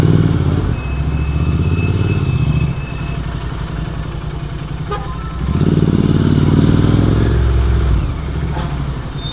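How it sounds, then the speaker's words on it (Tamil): The silencer exhaust of a Royal Enfield Continental GT 650 motorcycle burbles loud and close, a deep twin-cylinder thrum that swells twice with revving between steadier idle-like stretches. "இப்போ GT 650யோட சைலன்சர் எக்ஸாஸ்ட் நோட் பார்க்க போகிறோம்."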